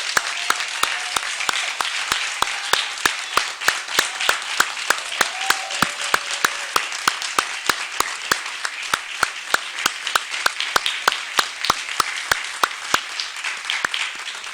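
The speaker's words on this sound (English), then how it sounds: "I'd like to ask for one final applause for all of the honorees here tonight." A large audience at a county freeholder meeting applauds steadily and loudly throughout, a dense wash of clapping with a few sharper claps standing out.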